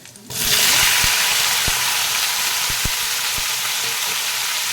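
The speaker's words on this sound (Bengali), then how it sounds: "এবারে কেটে রাখা কাঁচা টমেটোগুলো দিয়ে দেব।" Chopped raw green tomatoes hitting hot oil in a pan: a loud sudden burst of sizzling that settles into a steady, close hiss with a few faint utensil clicks, no talking.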